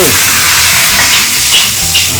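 Pork ribs and sliced cucumber stir-fry in a hot wok over high flame, giving a steady close sizzle and hiss with faint scraping as the ingredients are tossed, and no voices.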